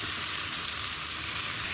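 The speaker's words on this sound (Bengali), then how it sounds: "আলুগুলো ভাজাও হয়ে গেছে, সিদ্ধও হয়ে গেছে। এখন একটু কষিয়ে নেবো।" Potatoes sautéing with spices in a pan for a potato curry, a steady continuous sizzle and hiss that stays even and fairly loud for the whole stretch, with no voices over it.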